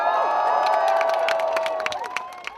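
Crowd outside St James's Palace at the proclamation of the new king, a loud wash of cheering and whooping voices with scattered shouts and claps, steady and close throughout.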